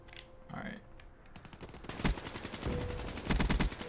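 Automatic gunfire in Call of Duty: Black Ops 3 builds into a dense, rapid stream of close shots, running continuously and loud over game ambience with a brief tonal sound early on.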